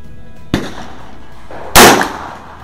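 Two sharp gunshots ring out at an outdoor target shooting session, the first moderately loud and the second a much louder crack about a second later, each followed by a brief decay.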